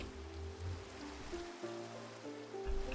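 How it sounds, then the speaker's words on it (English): Rain falling in the game Minecraft makes a steady soft hiss. It runs across the whole stretch under a low hum and tonal game sounds, with no talking. "oh, and it's raining."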